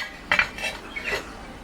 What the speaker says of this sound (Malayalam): അടപ്പ് കത്തിച്ചിട്ടുണ്ട്, ചട്ടി വെച്ച് കൊടുക്കാം.